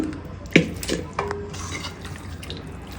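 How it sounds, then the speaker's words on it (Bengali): Pieces of beef drop into a metal cooking pot with a few soft, wet thuds and clanks, close by and brief, followed by quiet kitchen background. "এখন আমি এই মাংসগুলো পাতিলে দেব, পাতিলে রান্না করব আমি।"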